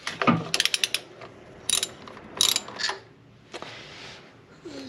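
A ratchet clicks in quick bursts while undoing a bolt on an Audi TT mk1 3.2 V6 engine, with pauses and a few metallic clinks between the close, sharp rattles. No talking.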